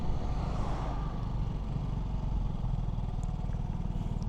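Piaggio Fly 150 3v scooter riding through a city past a golf course, its steady engine drone and road rumble continuous and fairly loud throughout, with no talking.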